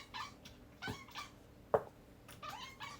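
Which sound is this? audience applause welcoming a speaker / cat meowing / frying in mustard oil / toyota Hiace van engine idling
cat meowing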